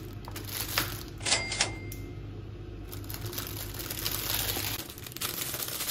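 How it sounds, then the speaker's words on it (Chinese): Plastic packaging being torn open before tomatoes are unpacked: close crinkling and rustling with a few sharp crackly bursts early on, then a steady low background hum, no talking. "拆开包装"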